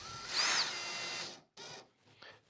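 A power drill or driver whines as it tightens screws on a wooden cajon being built from 2x4s, one long high-pitched run followed by two shorter bursts, close and fairly loud.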